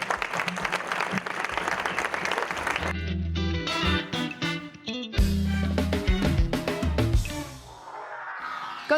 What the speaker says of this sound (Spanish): un aplauso para ustedes que están aquí con nosotros